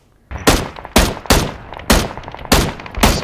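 Gunfire in the PC game PUBG: six loud, sharp shots spaced about half a second apart, each followed by a short decaying tail, with no talking.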